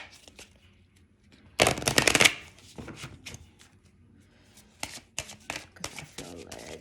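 African goddess oracle cards being shuffled close up, a dense flurry of riffling snaps in the middle followed by scattered lighter card flicks and taps, fairly quiet overall.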